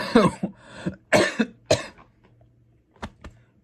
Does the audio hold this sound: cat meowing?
no